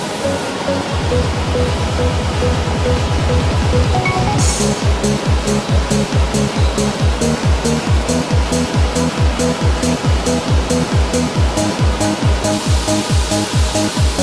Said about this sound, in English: Root veg such as potatoes, carrots and parsnips are washed to remove soil, stone, insects and other contamination.